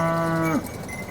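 A single cow at a cattle market moos up close, a loud, steady low call of about half a second that breaks off abruptly, followed by quiet background.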